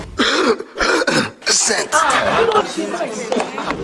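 A man's rough coughing and throat clearing in a Nigerian pidgin cough remedy advert, a few loud close bursts mixed with lively talk from several people.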